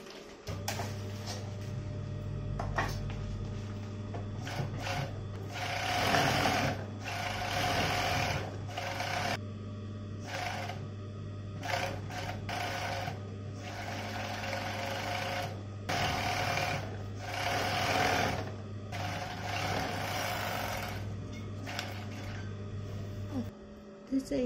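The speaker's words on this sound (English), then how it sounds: "now I overlock it, and I still use the same needle" An overlocker stitches the hem of a sequin formal dress, its steady mechanical whirr running in several bursts with brief pauses, close and fairly loud, while a person talks over it.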